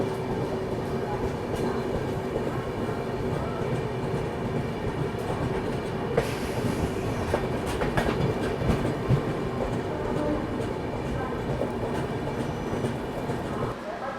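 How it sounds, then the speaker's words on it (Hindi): A Humsafar Express train rolls past a halted train on an Indian railway, with a sustained loud rumble and rhythmic clickety-clack of wheels on rail joints lasting throughout, plus occasional sharper clanks. "हम लोग यहाँ पे अंशुल हॉल्ट लेंगे और हमसफर एक्सप्रेस को हमारे आगे निकाला जा रहा"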